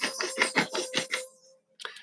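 A shimmering sparkle effect layered with fluttering butterfly wings, built from a rapid series of bright, airy pulses that trail off into a fading tone, then a brief flicker returns at the end.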